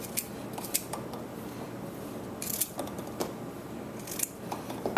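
Scissors snip through ingredients for a curry duck before they go into a mortar and pestle, a few sharp, quiet cuts scattered across a soft background, no talking.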